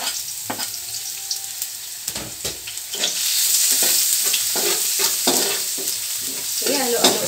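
Garlic frying in a pan for a breakfast of bihon noodles sizzles loudly and crackles, with intermittent scraping stir strokes that grow busier as the sizzle intensifies.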